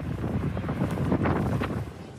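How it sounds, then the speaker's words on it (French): Strong wind blows hard through a burning Mediterranean city during a wildfire, loud buffeting gusts rumbling across the microphone with surges of rushing air. "le vent est trop fort"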